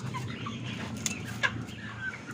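Free-range village chickens cluck softly and steadily close by at harvest, with a couple of sharper squawks rising above the low murmuring flock.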